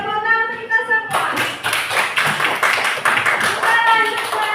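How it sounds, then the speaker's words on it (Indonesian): Hand claps from a group, likely children in a lesson, break out after a sustained tone and continue steadily, dense and fairly close, with faint voices mixed in. "tepuk tangan untuk kita semua"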